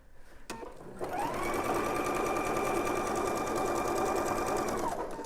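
A sewing machine stitches with lightweight thread: a sharp click, then a steady, loud run of fast mechanical stitching lasting about four seconds, close and unbroken.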